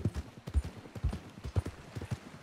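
Horse hooves clip-clopping at a steady walking rhythm in the western role-play game RedM, close and fairly quiet, with a faint voice in the background.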